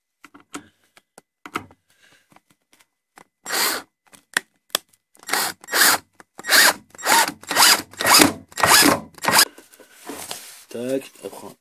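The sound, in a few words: power drill screwing a support onto a beehive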